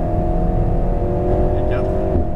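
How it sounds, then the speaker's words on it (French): Alpine A110S held in fourth gear at full throttle on a track, its engine a steady loud drone with a sustained tone, the car close and continuous throughout. "on va maintenir la 4 ici. Allez, vas-y, gaz à fond, c'est parti."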